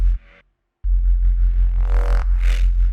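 Deep minimal drum and bass beat programmed in Ableton 11: a heavy low kick and sub thump, a short pause, then a continuous booming pattern with brighter hat or snare hits layered on top, loud and close.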